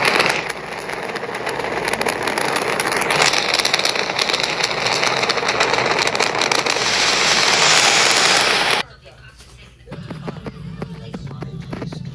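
A live Artemis rocket launch roars as a loud, steady broadband rumble for about nine seconds before cutting off abruptly, followed by quieter background sound.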